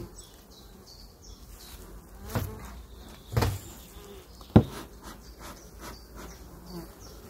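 Honeybees buzz steadily at a hive during a colony inspection, a low constant hum close by, broken by a few sharp knocks and bumps from handling the hive.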